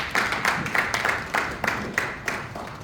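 Brief, sparse clapping from a small audience at an agricultural business event, a handful of distinct claps in uneven rhythm fading after under three seconds.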